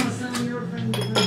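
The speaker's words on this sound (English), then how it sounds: "put a few ice cubes in there" Ice cubes clinking into a martini glass for a pumpkin spice martini: a quick series of bright glassy clinks, close and clear, against a low background hum.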